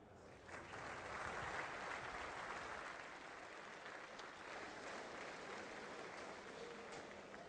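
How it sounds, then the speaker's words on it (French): Audience applause for a choir of former coal miners at Merlebach, a broad, even wash of clapping from a crowd heard at low level, steady from start to finish. "On vous laisse et on vous applaudit"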